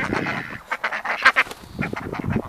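Ducks near their hut quack in loud, close, overlapping bursts with no pauses.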